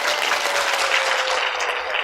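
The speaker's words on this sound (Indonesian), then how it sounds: "Saya ingin tepuk tangan dulu untuk ibu-ibu semua." Applause from an audience of women at a training program meeting, a loud, dense, continuous burst of clapping lasting about two seconds.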